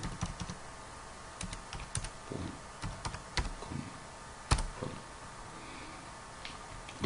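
Someone types a short word on a computer keyboard, a quiet, irregular run of crisp key clicks and taps with brief pauses between bursts, close by and with no talking.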